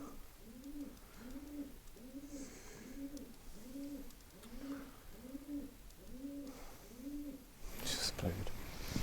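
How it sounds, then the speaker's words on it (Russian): A pigeon coos inside an old castle, giving about nine soft, evenly spaced coos in a steady rhythm that sound faint and distant, followed by a sharp burst of noise. "Это голубь."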